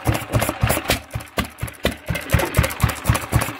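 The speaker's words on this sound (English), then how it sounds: "Finally, Mrs. Mancave managed to start her engine" An old Crossley barn-find stationary engine runs after a cold start, thumping in a steady, loud, slightly uneven idle rhythm with rattling knocks close by.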